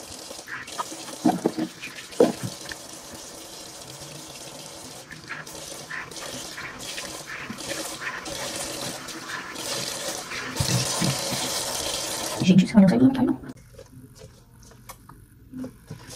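Tap water running at a bathroom sink during face washing, a steady wash of splashing flow with occasional louder gushes and clatters, close by, ending in quiet near the end.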